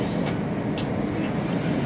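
Steady low rumble of a Japanese express train rolling along rails, continuous and fairly loud, with faint higher rattles drifting in and out.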